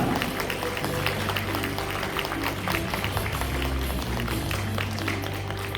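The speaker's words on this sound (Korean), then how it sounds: "큰 박수로 환영해 주시길 바랍니다" Audience applause at a convention-centre health roadshow as a speaker is welcomed onto the stage, a steady, moderately faint patter of clapping over a continuous hum of background music.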